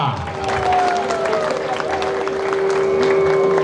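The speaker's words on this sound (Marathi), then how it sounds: "टाळ्या वाजवा" A crowd applauding steadily at a stage program honoring the goddess Mahalaxmi, a dense wash of clapping with murmuring voices mixed in and a sustained musical tone running underneath.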